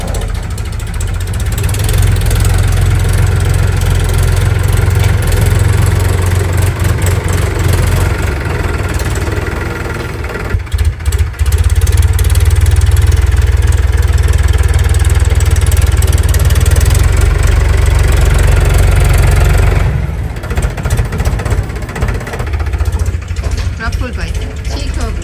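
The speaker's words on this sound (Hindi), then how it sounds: "तो हम ट्रैक्टर लेते हैं वहाँ पे।" A tractor engine idles on a farm with a steady, heavy low rumble that stays loud and close throughout, dipping briefly twice as people talk over it.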